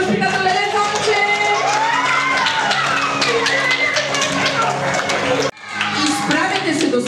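Applause at a kindergarten group's graduation ceremony honors the assistant teacher, with clapping mixed into a loud, continuous crowd din of children shouting and cheering, cutting off briefly near the end before the noise resumes.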